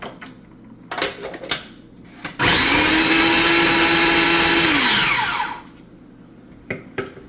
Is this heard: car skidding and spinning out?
no